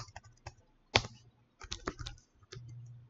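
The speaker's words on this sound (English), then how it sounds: "I type here that this is" Keys click on a computer keyboard in short, irregular bursts with brief pauses between them, close and fairly quiet, with no one talking.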